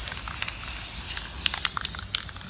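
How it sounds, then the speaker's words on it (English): An aerosol spray can coats a painted Halloween pumpkin in a continuous bright hiss, with several short sputtering bursts and light clicks over it, close and moderately loud. "Literally just gonna shake this and just start spraying all over it."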